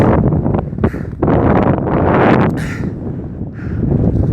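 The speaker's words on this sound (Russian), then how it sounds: "Дует." Strong wind gusting across a high mountain ridge near 7000 m, buffeting the microphone in loud, uneven roaring surges with brief lulls between them.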